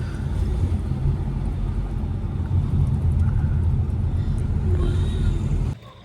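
A car drives along a hill road toward Darjeeling in heavy rain, giving a steady low rumble heard from inside that cuts off abruptly near the end.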